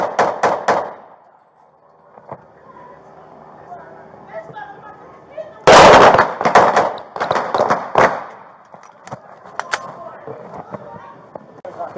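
Several police officers fire on an armed suspect: a loud cluster of sharp gunshot cracks bursts out midway, preceded and followed by shouted commands and single sharp reports amid tense outdoor talk.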